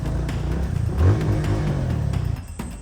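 A motorbike stuck in deep mud on a rough border-crossing track between Guinea-Bissau and Guinea-Conakry, its engine revving hard and straining in one continuous, close burst with no talk.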